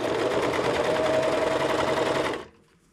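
A sewing machine stitching the seam of a fabric scrunchie around an elastic hair tie, a steady fast mechanical whir running loud and close for over two seconds before stopping abruptly.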